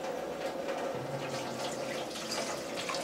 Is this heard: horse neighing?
no